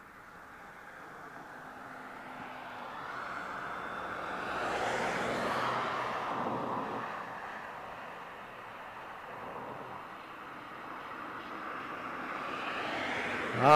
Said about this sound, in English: We're just in time for what will be the fast approaching United Airlines 777-200.